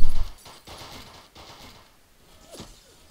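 Bursts of machine gun fire sound in a strategy video game, with a loud burst at the start, then quieter scattered rattles and a brief late burst.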